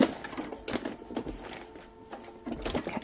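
A sewing machine stitches synthetic leather for a boxy pouch, running slowly in short uneven bursts of needle clatter, fairly quiet and close, with no talking.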